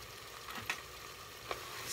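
Seasoned fonio jollof is stirred in a frying pan: a faint, steady sizzle with two soft scrapes of the spoon, quiet and close, with no talking.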